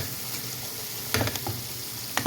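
Masala paste for aloo dum biryani fries in a pan, making a steady close sizzle with a few louder stirring scrapes near the end.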